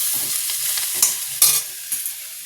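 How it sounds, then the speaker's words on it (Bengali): Onion stalks and potatoes sizzling in a frying pan, with a steady hiss and a few louder stirring scrapes near the middle, close and alone without talk. "এখানে একটুখানি পেঁয়াজ কলি আর আলু ভাজছি"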